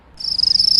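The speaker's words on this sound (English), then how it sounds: "It's the crickets." Crickets chirp at night outside a camping tent, a steady high trill that starts after a brief silence and pulses rapidly and evenly, fairly close and clear.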